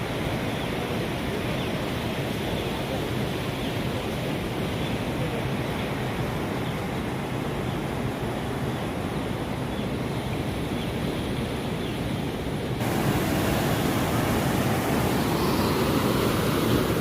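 River water rushes where it meets the sea on the Kerala coast near Kannur, a dense, continuous roar with a surf-like wash that swells louder toward the end. Nobody speaks.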